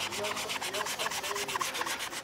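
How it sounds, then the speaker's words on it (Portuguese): Sandpaper rubbed over a freshly shod horse hoof to take off burrs, giving a steady run of quick, rhythmic rasping strokes, close and loud, with no talking. "Vai passar uma lixa para tirar a rebarba e dar um acabamento mais linear."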